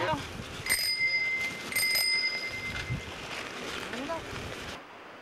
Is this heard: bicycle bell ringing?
yes